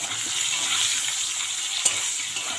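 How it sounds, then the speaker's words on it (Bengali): Potatoes frying in a pan with oil for a Bengali fish curry, a steady broadband sizzle that stays even and close throughout, with one brief sharp tick near the end and no voices. "মাছের ঝোলের আলুগুলো প্রায় ভাজা হয়ে গেছে"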